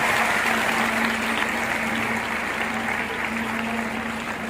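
Steady, dense applause from an audience honouring a minister at a National Space Day celebration in Karnal, loud and sustained throughout with no pause.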